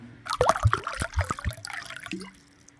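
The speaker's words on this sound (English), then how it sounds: "Now we filled up the system with coolant." Coolant glugs and gurgles as it is poured into the cooling system of a Toyota Supra, a few close bubbling pulses and splashes that trail off into quiet.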